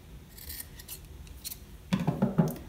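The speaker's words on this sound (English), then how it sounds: "we're going to cut off the corners because that will make it less lumpy" Scissors snip the corners off a sewn fabric face mask made for playing band instruments: a quiet pause, then a quick burst of several close, crisp cuts.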